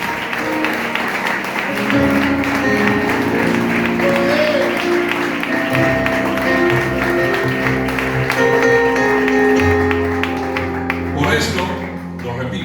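A church congregation claps and cheers together during a Sunday Spanish-language service, sustained applause loud and close throughout, mixed with voices and music before fading near the end.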